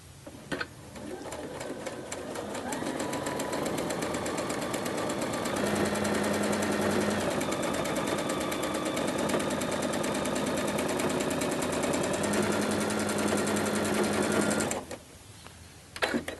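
A sewing machine runs continuously for about fourteen seconds while stitching a flat felled seam on fabric, a steady close whir that gains speed and stops abruptly near the end.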